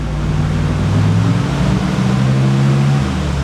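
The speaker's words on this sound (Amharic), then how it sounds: "140 ኪሎ ሜትር ፐር አወር ላይ እየሄደ ይገኛል ማለት ነው መኪናው።" Chevrolet Blazer travelling at speed around 140 to 160 km/h, a loud, steady cabin rumble of engine and tyres with engine pitch shifting slightly midway.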